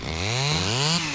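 A chainsaw weapon in Payday 2 revs loudly up close, its engine pitch climbing in two quick surges, alone with no talk.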